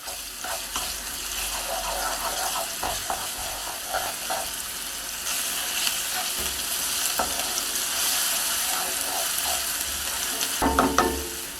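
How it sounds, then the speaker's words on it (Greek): Tomato paste and sugar sauté in a pan with a steady soft sizzle and occasional stirring scrapes and clicks, close and continuous throughout, with no speech. "Θα προσθέσουμε τον πελτέ μαζί με τη ζάχαρη. Θα σοτάρουμε για λίγο τον πελτέ."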